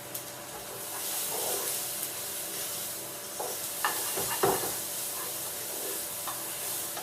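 Quinoa risotto being stirred in a pan, a steady soft hiss and sizzle with scattered scraping clicks of the spoon against the pan, close and continuous throughout.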